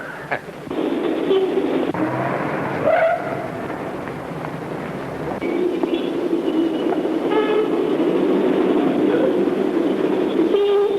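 A passenger train running with a steady, close rumble and rattling wagons, plus brief tonal horn-like toots over the noise.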